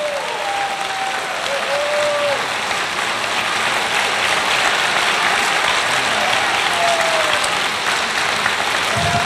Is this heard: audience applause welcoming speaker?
yes